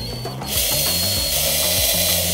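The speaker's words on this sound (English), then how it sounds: "what we want to do is drill exactly on that ridge" A small drill with a 1/16-inch bit whirs steadily at close range, grinding into the plastic of a 1954-1956 Cadillac tail light with a continuous high-pitched buzz and a slight ratcheting texture.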